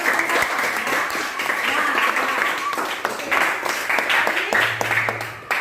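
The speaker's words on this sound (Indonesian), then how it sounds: "Berikan aplaus untuk teman-teman." Classmates in a school classroom clap together after a lesson on flora and fauna, a dense, steady round of applause lasting several seconds with voices mixed in underneath.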